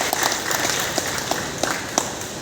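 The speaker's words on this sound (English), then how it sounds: "A round of applause." An outdoor crowd at a dog sterilisation camp gives a round of applause. Many hands clap in a dense, even patter for a couple of seconds, loud and close.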